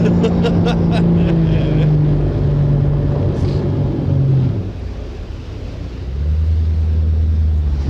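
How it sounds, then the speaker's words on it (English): A ski boat engine on a lake throttles up with a loud, steady rumbling drone that dips midway and then swells back, heard alone without talk. "I'll tell you what, Al, there's a lot of G-force when he throttles it up and turns around"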